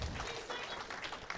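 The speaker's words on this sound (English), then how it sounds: "Give him another round of applause." Guests at an interfaith Eid feast give a brief round of applause, a short, faint burst of scattered clapping heard from a distance.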